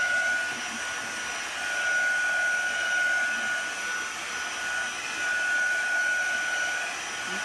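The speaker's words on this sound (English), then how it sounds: "you can use a hair dryer, you can use a heat tool, whichever you prefer, whichever you have handy" Hair dryer blowing to dry chalk paste on a board, a loud, steady whooshing hum close up with a thin constant whine, its airflow swelling slightly as it moves.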